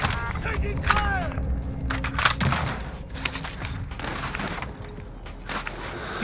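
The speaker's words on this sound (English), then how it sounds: "Taking fire." Gunfire crackles in a shooter game as bursts of shots and thuds come in clusters, moderately loud and fairly close, mixed with movement noises while players talk over the action.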